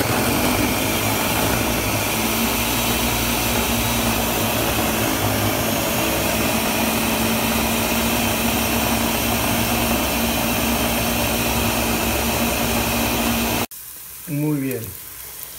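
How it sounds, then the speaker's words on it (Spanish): A blender grinds tomatoes with a loud, steady, close-up whirring roar that runs continuously for most of the clip, then cuts off abruptly, followed by a brief voice. "Vamos a moler nuestros jitomates."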